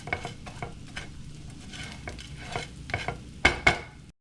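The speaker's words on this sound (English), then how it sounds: "Try to get some of the salami up off the bottom. We're just gonna toast that real good." Salami toasting in a pan while being stirred, a low sizzle broken by repeated scrapes and sharp clinks of a utensil against the pan, the last two louder and close.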